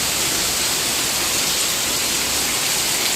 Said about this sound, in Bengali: ওই যে দেখো গাইস কি পরিমাণে বর্ষা হচ্ছে